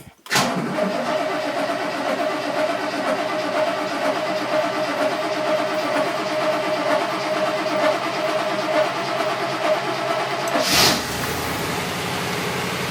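A car engine turns over and catches on a cold start after the throttle is pumped, then settles into a loud, steady high idle up close before a sharp clunk near the end, with no talking.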